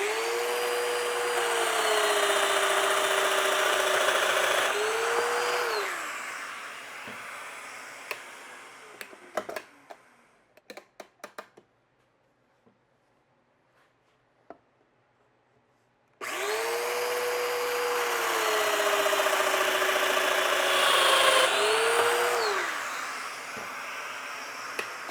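A domino joiner whines loudly as it plunges to cut mortises in the ends of wooden rail pieces for a frame-and-panel cabinet door, two sustained motor runs with a pitch dip at each cut, separated by quiet and a few clicks.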